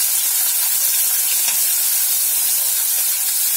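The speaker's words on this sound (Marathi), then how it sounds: "आता ही गवारीची शेंग आपल्याला तेलावरती चांगली परतून घ्यायची" Washed cluster beans sautéing in hot oil make a loud, continuous sizzle and hiss right up close, with no voices over it.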